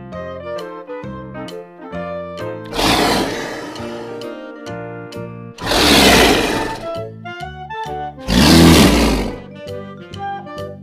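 A leopard's roar sounds in three loud, rough bursts a few seconds apart, each lasting about a second, set against bouncy background music.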